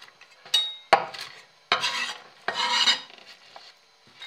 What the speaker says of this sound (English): Then a few walnuts, which again don't have to be too precious, but just mind your fingers, roughly chop these.